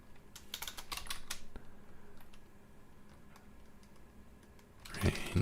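Fingers typing on a computer keyboard while coding a game, quick clusters of close, crisp key clicks early on, then sparser taps over quiet room tone, ending with a louder burst of clatter.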